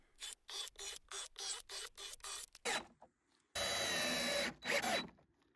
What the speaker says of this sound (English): I'm going to pre-drill these 2x6 planks and put a screw in each one of them